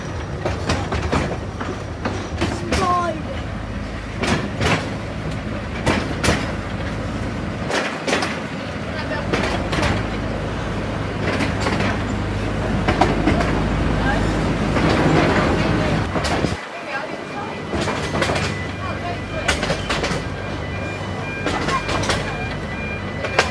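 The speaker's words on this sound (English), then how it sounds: "just got the train to go to the side of the park" A small park train rumbles steadily along the tracks with a rhythmic clatter at Conkers adventure park, while passengers chat nearby over the continuous rolling noise.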